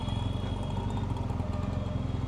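A motorcycle rides over bad tarmac through a town near Hampi, Karnataka, India, its engine a steady close putter with light rattling from the rough surface, continuous throughout.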